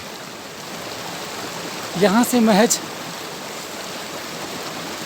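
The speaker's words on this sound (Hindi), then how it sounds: "कितना मनोरम है, निर्मल है इसका पानी, कलकल की आवाज़ के साथ में" Steady, rushing flow of a babbling mountain stream near the Pindari Glacier fills the background throughout, with a brief spoken phrase in Hindi over it in the middle.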